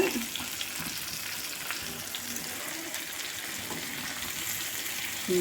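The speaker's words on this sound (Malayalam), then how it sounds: "പിന്നെ നമ്മുടെ ചിക്കൻ ഒന്ന് വറുത്ത് തരട്ടെ" A constant crackling sizzle of chicken pieces frying in oil, close and even, with small spits and pops scattered throughout.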